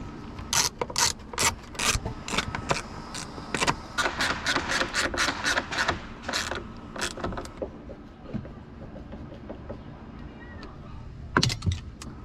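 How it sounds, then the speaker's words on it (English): Ratchet clicking rapidly as a nut is tightened on a Nissan 300ZX, dense bursts of sharp clicks for several seconds, then a pause and a final short burst, close and clear without talk. "Tightening this nut will help close up this gap here."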